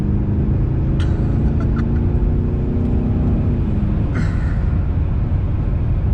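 BMW M5 Competition V8 drones steadily and loudly at cruising load, a constant low rumble with faint brief clicks and whines over it.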